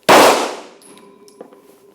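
Handgun firing, a single sharp close shot with a decaying ring and faint clinks after.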